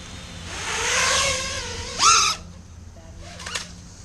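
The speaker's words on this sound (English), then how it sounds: "That hit the tree branch." A racing drone fitted with Masterairscrew propellers whines loudly as its motors rev. A sudden sharp hit follows as it crashes into a tree branch, then a faint buzzing settles outdoors.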